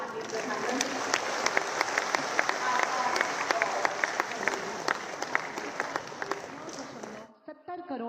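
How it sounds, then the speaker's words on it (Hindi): A large crowd at a public rally for the Prime Minister in Varanasi claps loudly and steadily for several seconds, then the applause cuts off abruptly. "बहुत जोरदार तालियों से माननीय प्रधानमंत्री"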